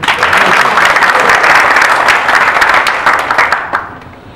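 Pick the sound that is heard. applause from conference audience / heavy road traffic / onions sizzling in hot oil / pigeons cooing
applause from conference audience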